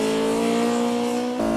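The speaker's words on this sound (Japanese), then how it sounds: "Orito follows, testing the TRD-tuned Altezza." A TRD-tuned Toyota Altezza on a racing track with semi-racing tires, its engine holding a loud, steady tone throughout before an abrupt pitch drop near the end, as if shifting or lifting off.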